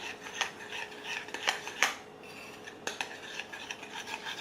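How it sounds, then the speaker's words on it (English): A utensil clinks and scrapes around a bowl while protein brownie batter is mixed, quick irregular taps and rubbing strokes at close range, fairly quiet and without voices. "So I'm just gonna stir this up really quickly"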